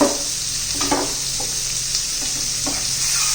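Finely chopped onion sautéing in a pan for an egg tawa masala, a constant close sizzle broken by a few short stirring scrapes.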